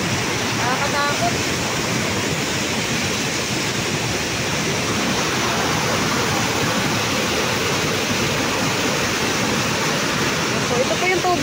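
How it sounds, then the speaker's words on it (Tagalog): Floodwater of the Santa Rosa river in Laguna rushes in a dense, steady roar, loud and close with no letup, like a torrent pouring past. "Ang lakas ng tubig."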